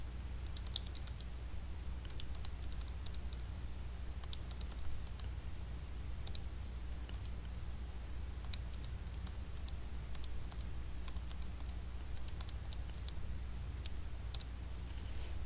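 Numbers being keyed into a calculator, a quiet run of light, irregular plastic button clicks repeating steadily over a low background hum, with no talking.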